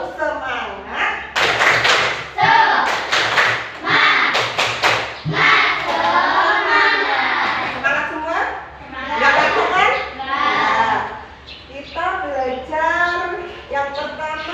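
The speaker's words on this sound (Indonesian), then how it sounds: "Kalau begitu kita bikin dulu tepuk semangat." A classroom of children performs the rhythmic 'tepuk semangat' clapping routine, sharp hand claps in quick patterns mixed with young voices chanting along, close and lively.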